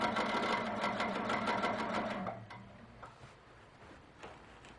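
A sewing machine stitches straight quilting lines in a rapid, even run of needle strokes, loud and close for about two seconds before stopping, followed by faint handling clicks.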